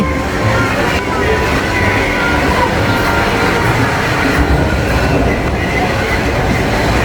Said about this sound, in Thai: มีรถไฟเหาะด้วย